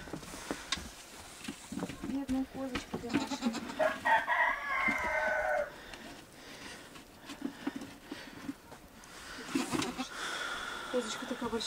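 Chickens and a rooster in a snowy farmyard, with a crow rising clearly mid-clip among scattered clucks and other farmyard sounds, while people talk nearby throughout.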